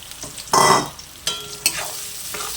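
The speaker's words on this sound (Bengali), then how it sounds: "তেলে আমি 2টো শুকনো লঙ্কা, হাফ চামচ সম্বারা, তারপর কেটে রাখা পেঁয়াজগুলো দিয়ে দিলাম।" Chopped onions hit hot oil with two dried chillies and half a spoon of tempering spices, bursting into a loud sizzle that settles into a steady crackle, broken by a few sharp stirring knocks.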